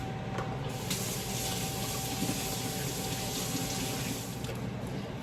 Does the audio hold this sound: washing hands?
yes